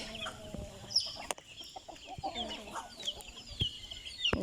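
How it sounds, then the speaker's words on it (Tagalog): A flock of fighting-breed roosters and hens clucks and squawks up close on a farm with chicks nearby, with busy overlapping calls, an occasional sharp cry and a scatter of rustling. "Daming manok."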